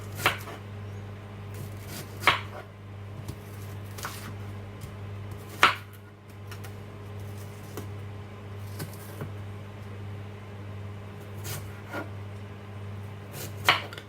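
A knife chops an onion on a board at dinner prep, giving sharp, sparse cuts spaced a second or two apart over a steady low hum, no talking.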